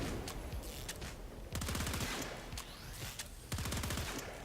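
Rapid bursts of Pandero pistol alternate fire from Warframe, spammed in quick fanned volleys of sharp cracks, three dense clusters separated by short gaps, loud and close with no talk.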